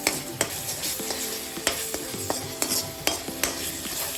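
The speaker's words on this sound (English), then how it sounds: "Then you have to put the ginger garlic paste. Stir it well." Ginger garlic paste and dry spices with chili sizzling in a pan for dhaba style chicken bharta, steady frying hiss broken by regular clinks and scrapes of a spoon stirring against the pan, close by.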